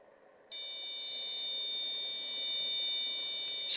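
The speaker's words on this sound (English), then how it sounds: "once the current time reaches the alarm time, a buzzer goes off." An infrared Nixie clock alarm buzzer switches on after a brief quiet moment and sounds a steady, shrill electronic tone for about three seconds. It is close and moderately loud, with no talking.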